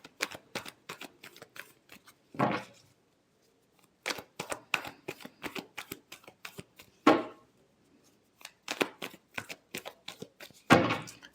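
Tarot cards are shuffled by hand in a quiet room, with repeated crisp riffling flutters and short slapping bursts in rhythmic clusters, up close and without speech.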